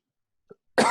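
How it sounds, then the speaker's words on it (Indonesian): A single short cough bursts out loud and close near the end, preceded by a faint throat sound, during an otherwise silent moment on a video call. "batuk nggak pakai masker lagi pas lagi video call"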